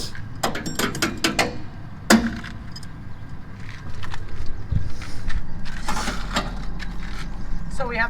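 A wrench tightens an Andersen weight distribution hitch in a quick series of metallic clicks and ratcheting clacks, followed by duller mechanical knocks and creaks, with people talking nearby.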